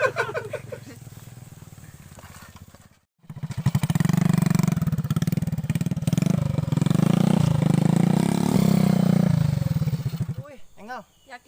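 A motorcycle engine idles near the listener, breaks off briefly, then comes back louder in a sustained rev and drone before fading, with people talking over it throughout.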